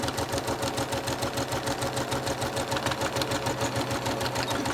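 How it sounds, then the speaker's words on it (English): A sewing machine with its presser foot down runs continuously while stitching the bottom of a fabric courtesy mask, an even rapid mechanical chatter heard close up with no voices. "Presser foot down, and we're going to sew the rest of the bottom."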